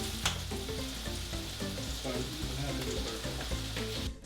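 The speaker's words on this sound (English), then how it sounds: "I'm also working on that second fry, and they'll be in the fryer for about 5 minutes." French fries cooking in a deep fryer during a homemade Five Guys style burger meal, a steady dense sizzle and bubbling that holds at an even level throughout with no one talking.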